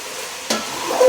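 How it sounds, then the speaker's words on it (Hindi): Ground spices, turmeric, red chilli, garam masala and dried fenugreek, fry and get stirred in a pot, with a brief scraping stroke over a soft steady sizzle, close and short. "2 से 3 मिनट हो चुके हैं मुझे भूनते हुए।"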